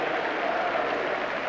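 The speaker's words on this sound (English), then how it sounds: "Applause all around the ground though." A football crowd at Highbury stadium applauds after an Arsenal cup tie, a steady, broad wash of clapping spread around the ground, continuous and even with no distinct voices.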